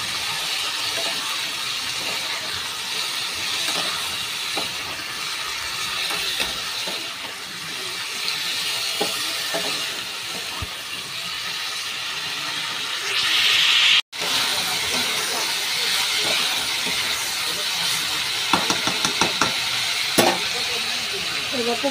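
Cubed potatoes frying in a pan with turmeric and salt make a continuous, fairly loud sizzle, with occasional stirring scrapes and a few sharp clicks.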